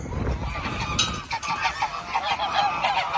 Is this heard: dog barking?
no